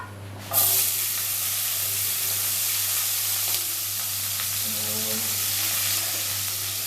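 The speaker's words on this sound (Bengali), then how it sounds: "পেঁয়াজটাকে আমি একটু নাড়াচাড়া দিয়ে একটু ভেজে নেব" Chopped onion dropped into hot oil bursts into a loud sizzle, then keeps crackling steadily while being stirred with occasional scraping, close and without speech.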